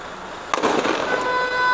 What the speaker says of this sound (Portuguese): Os caras dando tiro de fuzil.